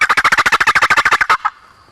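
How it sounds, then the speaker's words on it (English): Primos Hook Up magnetic box call with a rare earth magnet, producing an intense turkey gobble: a fast, loud, close rattle of about eighteen pulses lasting over a second, then a faint tail. "This thing produces great soft yelps to intense gobbles."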